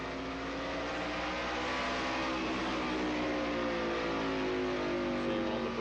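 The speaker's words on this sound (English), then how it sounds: "More than likely, Derek is running a little higher gear ratio, which did not turn the engine as many RPMs." Stock car engines at the 1994 First Union 400 race roar continuously at speed around the racetrack, loud and dense, with rising and falling engine pitch as cars pass.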